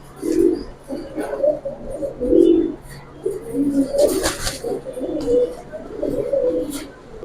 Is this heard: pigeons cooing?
yes